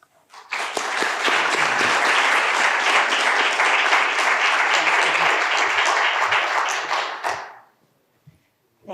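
A seminar audience on asthma research bursts into sustained, dense applause that welcomes the presenter, loud and steady for about seven seconds before cutting off into near silence.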